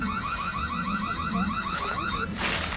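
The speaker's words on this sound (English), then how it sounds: "Up top here, we have the button for the alarm." A Reolink 4G security camera's warbling electronic alarm siren repeats in quick rising-falling cycles against steady background noise, ending in a burst of static.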